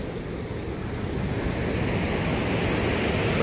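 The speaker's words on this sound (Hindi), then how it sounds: "नदी का बहाव और बहुत तेज़ आवाज़ यहाँ पे आती है।" The Saraswati river rushes beneath Bhim Pul near Mana, a steady loud roar of churning water that fills the air without a break and swells slightly toward the end.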